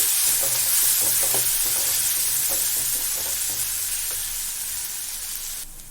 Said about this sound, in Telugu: అది పచ్చి స్మెల్ పోయేంత వరకు కొంచెం బాగా ఫ్రై చేసుకోండి, మీడియం ఫ్లేమ్లో పెట్టి.